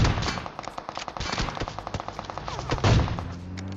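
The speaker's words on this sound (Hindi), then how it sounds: "बंदा बिल्कुल कवर से बाहर आके स्प्रे दे रहा है" Rapid automatic gunfire sprays in a PUBG Mobile match, a dense rattle of sharp shots in quick bursts, loud and close, with a heavier blast near the end and no talking.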